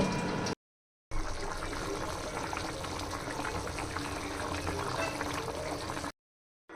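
Hilsa fish curry with kochu mukhi (taro root) simmering on a stove, a steady close bubbling and hiss that runs continuously, briefly cut off at the start and end.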